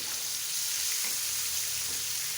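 Pieces of katla fish fry in hot oil in a pan, giving a close, steady hiss and sizzle that runs unbroken.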